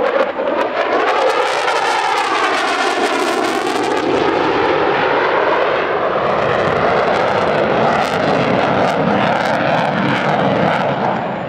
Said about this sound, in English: the aircraft we see in front of us, which is just demonstrating a sustained turn at 20 degrees per second